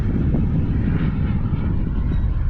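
A Global Jet Club Hummingbird model jet powered by an ACEx-80 turbine flies past on a windy, overcast day, giving a steady, loud rushing roar that holds without a break.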